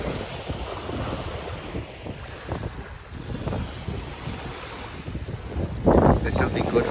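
Sea waves roll onto the shingle at Brighton beach under steady wind buffeting the microphone, with a continuous wash of surf and a louder breaking wave near the end.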